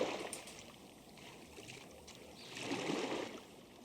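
Oars of a rowboat pushing through calm lake water: soft, faint splashing swishes, with one fuller stroke swelling toward the end, quiet and alone.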